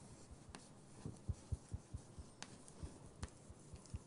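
Chalk or marker writing on a board during a university topology lecture, heard as faint, irregular taps and scratches spaced through a quiet room.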